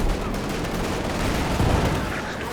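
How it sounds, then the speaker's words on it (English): Artillery and gunfire in Company of Heroes 2, a 2v2 match, as dense overlapping booms and rattling shots form a continuous loud barrage with a voice faintly underneath. "Dropping the artillery right on the edge of the base"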